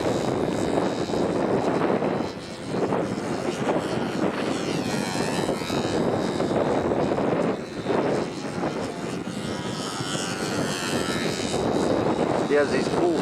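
Model airplane with Fowler flaps flying at the U.S. Nationals, its small engine droning steadily and continuously through windy, gusty outdoor air with a rough, buzzing tone and people talking in the background.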